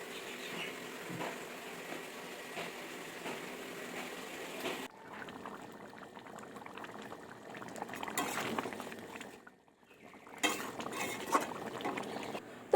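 Chicken cooking in a pot at home, liquid bubbling and simmering with occasional clinks of a spoon and pan, short gaps between stirs, fairly quiet and close, no talk.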